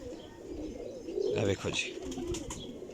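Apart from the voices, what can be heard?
pigeons cooing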